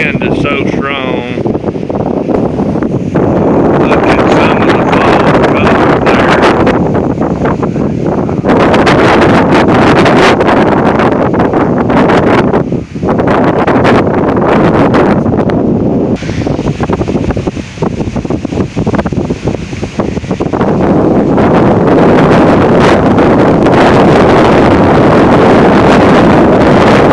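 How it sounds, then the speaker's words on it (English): Strong 40-60 mph non-thunderstorm wind in Oklahoma, stripping leaves off trees, roars loudly and continuously with heavy gusting buffeting against the microphone, while a person talks over it. "This wind is so strong."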